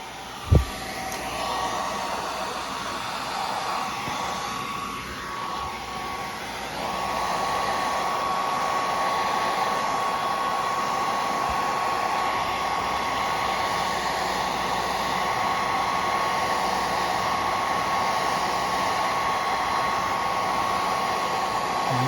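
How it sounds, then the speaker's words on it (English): A hair dryer runs steadily at a low setting, a constant airy whoosh with a faint hum, after a brief click at the start. "Now I'm going to try the hairdryer."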